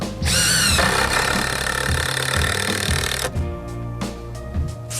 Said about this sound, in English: then you can start screwing them through the 2x4 into the rafter behind it